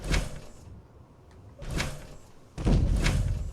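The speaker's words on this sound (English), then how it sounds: "You still got that big impact sound. Even on just a small jump here" Three heavy, booming thuds spaced across a few seconds, each with a broad rumbling body and a short decay: mechanical power armor landing from jumps in Fallout 4.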